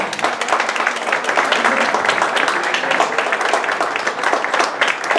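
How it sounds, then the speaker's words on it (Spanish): A seated audience at a poetry event breaks into dense, steady applause, many hands clapping together at close range for several seconds. "por favor un fuerte aplauso"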